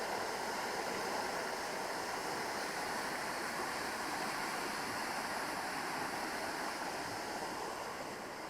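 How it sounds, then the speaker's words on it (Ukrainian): A steady, dense roar of falling water fills the whole clip, loud and continuous without a break. "це майже найвисокий водоспад"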